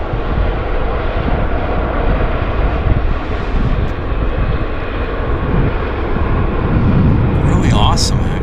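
WestJet airliner rolling along a wet runway, a continuous loud broadband engine roar with a faint hiss of spray, heard from a distance with people talking over it.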